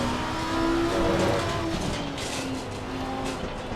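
Race car engine in the Assetto Corsa Competizione racing game, a steady loud drone with sustained tonal whine, slight swells in revs, continuous throughout without speech.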